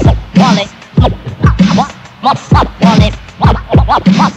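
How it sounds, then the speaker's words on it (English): Rapid DJ turntable scratching from a studio demo. Rhythmic back-and-forth strokes repeat in a steady, funky pattern, loud and upfront, with no talking over them. "Molly, can we hear your funky fresh scratching again?"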